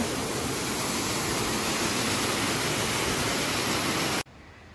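Broad, steady roar of a waterfall in the Andes foothills near Santiago, Chile, heard up close as a dense continuous rush with no voices, ending abruptly.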